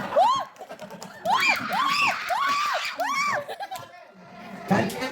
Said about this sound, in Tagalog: Gusto ko ang pinakamalakas na palakpak kasama sigawan